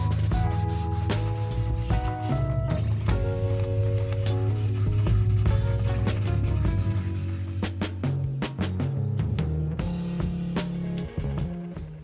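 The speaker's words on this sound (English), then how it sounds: "he made a plug, which then needed to be sanded and faired with precision" Sanding an MDF plug for a boat hull, a steady close rubbing and rasping that runs continuously with shifting strokes and grows more irregular toward the end, with no talk.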